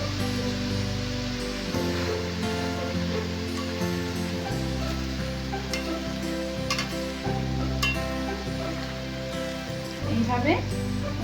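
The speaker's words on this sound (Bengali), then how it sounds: "একইভাবে আমরা বাকি আলু ভাজাগুলো ভেজে নেব" Potato slices frying in oil for a Bengali puja thali, giving a continuous dense sizzle close by that runs steadily throughout, with a low background hum and occasional faint clinks.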